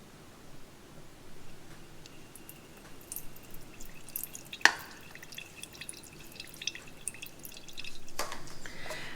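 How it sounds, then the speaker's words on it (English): Strained lemon juice drips into a pitcher in an open-air home kitchen, a soft patter of small drops with occasional louder plinks and clinks, near and quiet, with no voices. "I'm going to go ahead and strain that out, and we'll pour it inside the pitcher here"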